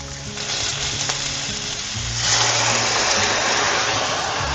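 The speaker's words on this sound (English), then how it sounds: "And I'm going to add in our white wine." White wine hits a hot pan holding tomato paste and garlic, letting out a loud, steady broadband sizzle that swells midway as the liquid spreads, close up with no talk.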